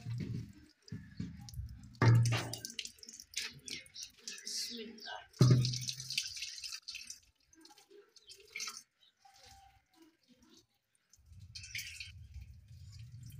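Water runs and drips into a clay pot being washed and then filled at a home, with splashes and uneven trickling, and bursts of louder pouring, while people talk nearby.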